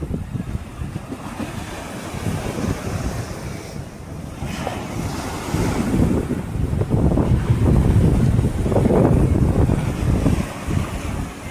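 Sea waves break and wash ashore on a cold, windy winter day, a roaring surge that builds louder in the second half, mixed with steady wind buffeting the microphone.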